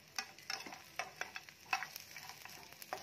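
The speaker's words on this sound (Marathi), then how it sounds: "मंद आचेवर एक 3 ते 4 मिनिट हे छान असं परतून घ्यायचं" Dried Bombay duck fish roasting in a pan over a low flame, giving a soft, steady crackle with scattered sharper pops and light scraping from stirring, close and fairly quiet, no voices.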